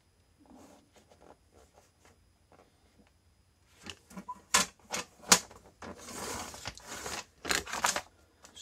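A paper card base for a Christmas mini album is creased and folded. Faint light rustles are followed by louder, crisp crackling bursts of paper close by, with no speech.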